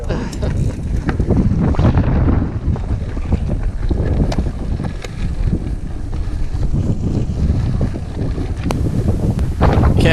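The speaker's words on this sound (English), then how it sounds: "check out the wind whipping that bush around" Strong desert wind around 20 to 30 mph whips a bush on a trail near Navajo Rock in Moab, a loud, constant buffeting roar with gusty rushes and rustling bursts throughout.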